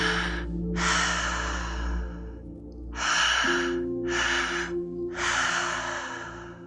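Several slow, deep breaths during a guided breathwork session, loud and close, with long airy exhales separated by brief pauses over a low steady background drone.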